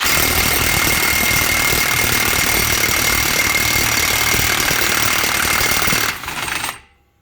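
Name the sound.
impact gun removing a wheel hub castle nut on a Subaru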